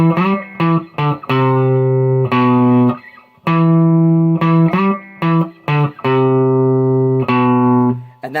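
Electric guitar with a gritty, octave-effect tone plays a riff, loud sustained notes with short gaps between phrases, alone with no talking.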